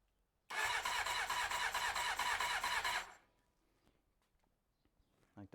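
A 1993 Honda CBR900RR motorcycle cranks loudly and steadily on its starter for about two and a half seconds, then falls quiet, leaving faint clicks and small knocks nearby.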